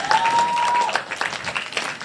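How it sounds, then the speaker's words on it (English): An audience at a summit event applauds steadily for about two seconds, with a brief tonal whistle near the start. "A round of applause for them again."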